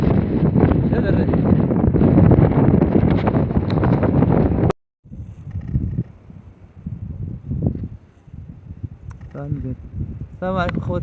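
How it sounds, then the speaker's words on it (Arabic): Strong wind buffets the microphone on a bicycle trip near Sidi Kaouki on the Moroccan coast, a loud roar that cuts off abruptly, then continues more faintly with a voice speaking near the end. "هذا الريح."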